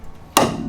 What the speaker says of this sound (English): That was the socket that snapped.